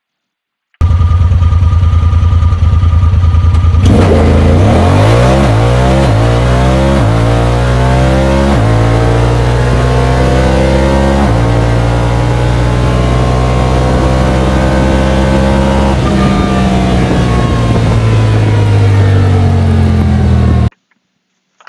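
A Honda Talon 1000 side-by-side on 28-inch tires accelerates hard from a stop, its engine revving up through a series of rising gear pulls, loud and close, before cutting off abruptly near the end.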